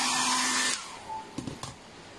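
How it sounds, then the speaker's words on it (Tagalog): Hair dryer drying paint on a 1/4 scale Venom statue, a loud steady high-pitched blowing whir that cuts off partway through, followed by a few soft clunks and handling noises. "Hair dryer."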